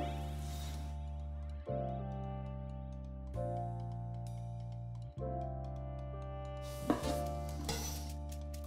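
A knife chops through pieces of beef on a cutting board in a home kitchen, with a few distinct, evenly spaced cuts marked by sharp knocks against the board, then a louder clatter near the end.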